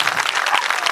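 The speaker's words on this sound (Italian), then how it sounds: "un applauso veramente." An audience at a public talk with Alberto Angela claps loudly and continuously, a dense wash of many hands throughout the moment.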